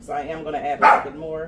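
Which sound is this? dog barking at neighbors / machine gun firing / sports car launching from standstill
dog barking at neighbors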